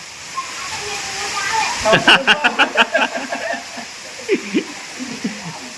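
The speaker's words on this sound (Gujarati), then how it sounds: "હવે ઈ કે જેમ જેમ વરસાદ આવે એમ નાવાનું છે." Heavy rain pours down in a steady, loud, broadband rush while people nearby talk and laugh over it.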